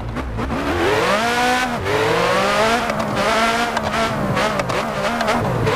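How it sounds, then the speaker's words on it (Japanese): A car engine in Car Parking drones loudly and steadily, fairly high-pitched, its pitch climbing through gear shifts with a brief drop between, alone without talk. "エンジン音としてはちょっと高い感じですね、音が"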